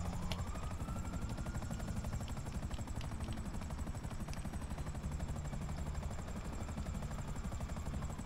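Maverick helicopter in GTA Online, flying steadily with a continuous rhythmic rotor thump and engine drone at moderate distance for the whole stretch.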